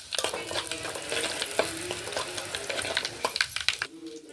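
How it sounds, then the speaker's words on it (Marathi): Garlic and red chilli powder sizzle in hot tempering oil over low flame. A close, crackling fry comes with rhythmic scrapes and taps of stirring, and there is no talking. "गॅस मंद करून लसूण थोडं लाल होईस तोपर्यंत त्याच्यामध्ये लाल तिखट घालून घ्यायचं आहे"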